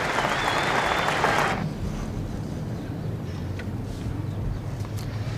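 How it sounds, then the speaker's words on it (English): Cricket crowd applause for fast bowler Jeff Thompson at a 1974/75 Ashes Test in Brisbane: a dense, loud burst of clapping that cuts off after about a second and a half, leaving a low, broad stadium murmur. "Just listen to the applause from this crowd for Jeff Thompson,"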